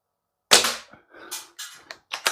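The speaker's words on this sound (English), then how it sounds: "I'm going to shoot at the bullseye, so it will shoot a little higher." An ASG Action Army T-11 spring-powered bolt-action airsoft rifle fires one sharp, close crack. Several quieter clicks and clacks follow, likely the bolt being cycled.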